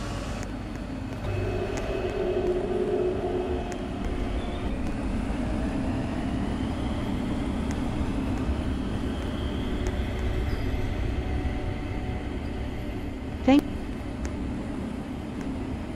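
Airport transit train in Roblox's Westwood Airport Transit running between stations, a continuous steady rumble of wheels and motor throughout with a short sharp chirp near the end, no talk.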